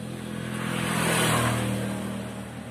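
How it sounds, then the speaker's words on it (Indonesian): A Honda Vario 150 LED scooter with a rough, knocking CVT accelerates from idle. The engine note swells steadily and then eases off, a close, continuous motor hum with no talk over it. "Dan di sini terjadi kasar pada saat tarikan gas awal, itu terjadi sangat kasar, bunyi kelotok-kelotok dan terasa sangat berat."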